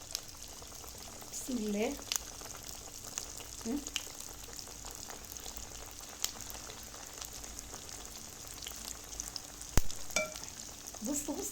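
Bread dough dropped into hot oil for pan-fried bread, a soft steady frying hiss with faint bubbling, while someone speaks briefly over it.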